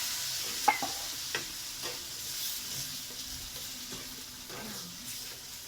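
Masala cooking in a pan sizzles softly after a splash of water is added, with a few light clinks and scrapes of a stirring spoon over a low, even hiss.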